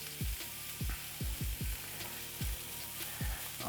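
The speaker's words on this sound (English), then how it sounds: "I had just added a bit of olive oil in there, and I'll add my sausage." Vegan sausage pieces fry in olive oil in a pan, with a steady sizzle under repeated low, thudding knocks as the pieces are pushed and stirred at an uneven rhythm.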